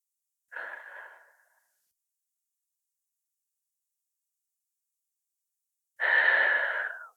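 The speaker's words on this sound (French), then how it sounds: "Et voilà comment je dois respirer." Slow, deep belly breathing in a demonstration: two audible breaths, one short and one longer, separated by several seconds of silence, close and fairly soft.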